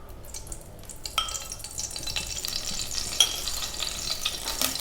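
Ghee heating in a hot kadai for sukha chicken, a soft steady sizzle with a few sharp clicks and utensil knocks, close and without voices.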